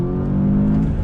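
A 2020 VW Jetta GLI accelerates hard on throttle from a rolling start, its engine a loud, close, rising drone that lasts about a second with no talk.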